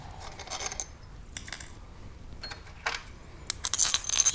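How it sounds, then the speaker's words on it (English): Steel fender washers handled and fitted during an LT4 supercharger pulley upgrade, scattered light metallic clinks and jingles, close and sparse, growing busier toward the end, with no talking. "I purchased some of these Fender washers, so we'll get a lot more surface area here to clamp down on"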